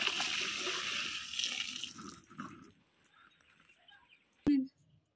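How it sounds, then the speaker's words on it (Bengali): Jujube fruits are rinsed in a basket under running water, with a steady splashing wash for about two seconds, then quieter trickles and drips before a brief clatter. "আমি কুলটাকে ভালো করে ধুয়ে নেব, ঝুড়িতে ঢেলে নিচ্ছি।"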